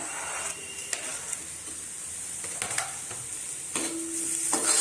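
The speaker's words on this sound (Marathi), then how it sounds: "टोमॅटो घालूया" Tomatoes go into a pan of shev bhaji with green chilies, giving a soft steady sizzle under stirring and a few sharp scrapes and knocks of a spoon against the pan.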